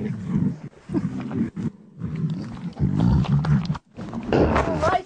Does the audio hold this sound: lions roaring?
yes